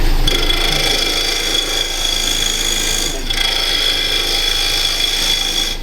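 A woodturning tool cuts into a wooden bowl spinning on a lathe, making a loud, continuous scraping whir over a steady high whine, with a brief dip near the middle before the cut resumes.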